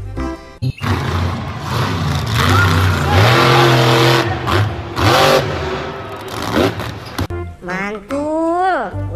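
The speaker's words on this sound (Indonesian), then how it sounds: "Widih, ini mobil monster." A toy monster truck's electronic engine sound revs and roars in loud rising and falling bursts, mixed with overlapping voices talking.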